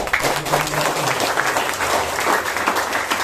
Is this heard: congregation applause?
yes